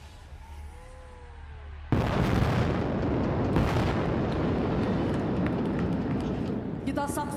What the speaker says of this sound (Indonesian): Saksikan bersama tembakan kanon Leopard 2 RI.